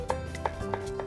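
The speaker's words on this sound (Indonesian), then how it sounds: "Terus potong kotak-kotak." A knife chops food into small cubes on a cutting board in a Japanese-cooking demonstration, four or five crisp, evenly spaced taps close up, with a faint background tone and no talk.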